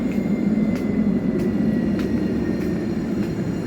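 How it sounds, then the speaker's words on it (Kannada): A low, steady rumble of a train rolling in, with faint rhythmic clicks of wheels over track joints. "ಎನ್ನ ಟ್ರೈನ್ ಬಂತ"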